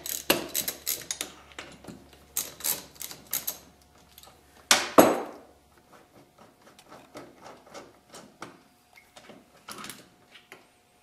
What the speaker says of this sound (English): So we need to loosen these up and remove them.